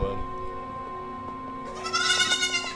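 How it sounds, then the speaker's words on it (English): Goats bleat in a TV drama scene, a few wavering, high nasal calls near the end over a quiet background with faint voices. "I would have questions about why there are goats walking around."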